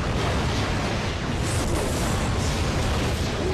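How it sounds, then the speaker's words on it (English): Dense, continuous explosions fill the scene in Ratchet and Clank: Into the Nexus on PS3, a loud steady roar of overlapping booms and bursts with no voices on top. "Man, a lot of explosions on screen."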